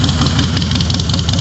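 A 2009 Harley-Davidson Night Train with the counterbalanced engine runs at a steady, loud idle, its low rumbling pulse continuous and close throughout, with no talk over it.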